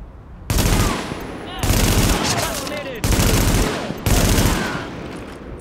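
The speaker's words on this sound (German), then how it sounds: "Beschuss durch leichte Waffen" Small arms gunfire crackles in bursts in the video game The Division: dense, loud automatic fire in several long volleys separated by brief gaps, with faint talk beneath.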